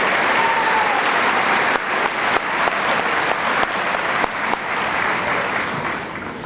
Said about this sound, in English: If we could please give a round of applause to our exchange students for visiting with us this year.